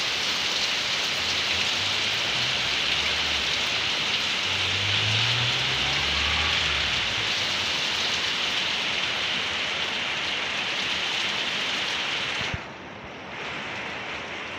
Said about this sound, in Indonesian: Terus semakin besar hujannya teman-teman.